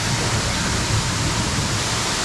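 A waterfall pours down near a rock face, a steady broadband roar of falling water that holds constant and close throughout.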